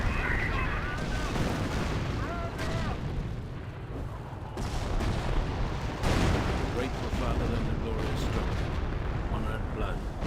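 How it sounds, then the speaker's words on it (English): Creeping barrage artillery in Company of Heroes, a World War II strategy game: distant booms and rumbling impacts roll continuously under a commentator's steady talk, with a couple of stronger blasts standing out. "We've got now the captain's vector target and a creeping barrage there"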